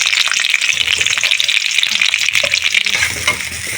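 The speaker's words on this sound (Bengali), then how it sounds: "তো কড়াতে তেল গরম করতে দিয়েছি, এখন দিয়ে দেবো কেটে রাখা ফুলকপি। ফুলকপিগুলো আমি ভেজে নেবো লাল লাল করে।" Cut cauliflower florets frying in hot oil in a kadai, a loud, dense, continuous crackling sizzle from up close with faint stirring, no voices.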